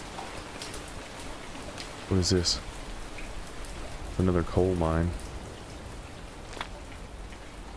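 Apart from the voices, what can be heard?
rain falling in a survival video game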